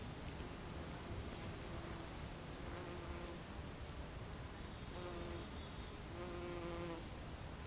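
Bees buzz around flowering catmint plants in a garden, a steady, quiet insect hum that runs the whole time with faint buzzing tones swelling now and then, and no talking.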